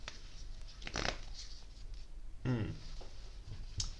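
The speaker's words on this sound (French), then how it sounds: "J'ai tiré la carte des nuages." An oracle card is drawn from a deck: quiet papery shuffling and sliding come in two short bursts over a faint, hushed background.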